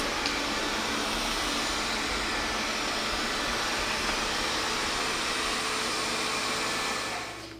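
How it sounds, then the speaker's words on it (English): A robot vacuum cleaner with rotating brushes runs alone, a steady loud whooshing hum with broadband airflow that holds even for several seconds before fading out at the end. "overall I think we'll be pretty happy with this specific robotic vacuum cleaner"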